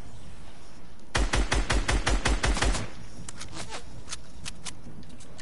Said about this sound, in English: His teammate's trying to shoot me.